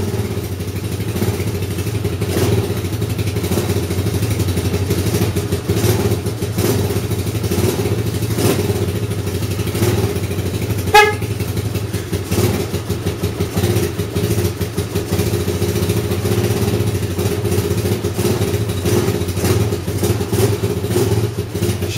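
A Yamoto motorcycle engine runs on full choke after a cold start, having sat unused for a long time. It gives a steady, uneven low chugging idle throughout, with one brief sharp click near the middle.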